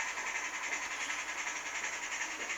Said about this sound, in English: But that's a neat little train.